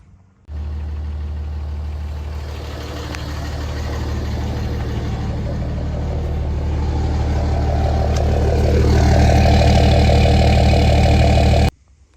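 A repaired motor runs steadily after being put back together, a loud, close, continuous engine drone that starts abruptly, gradually builds slightly in intensity, and cuts off sharply near the end.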